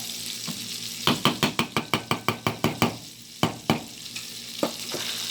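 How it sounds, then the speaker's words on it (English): Taco rice is stirred in a pan in a quick run of sharp scraping knocks, about a dozen strokes in a row, then a few slower ones. A light sizzle runs beneath the strokes, and no one speaks. "Now give it a good stir."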